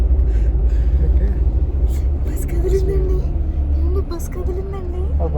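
Bus cabin on a long road trip, a heavy continuous low rumble of the engine and tyres droning steadily throughout, with people talking over it.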